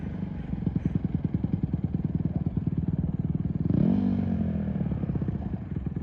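Honda CRF150R dirt bike engine idling with a rapid, loud putter, then revving up briefly and settling back, heard close throughout with no talking.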